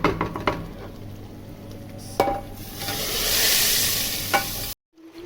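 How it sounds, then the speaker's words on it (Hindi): Tadka hits lentil dal (sabut masoor) with a loud, steady frying sizzle that swells and fades over several seconds, with a few sharp clinks of a metal pan and spoon, then cuts off abruptly. "तो अब इसको दाल के ऊपर हम डालने लगे तड़का।"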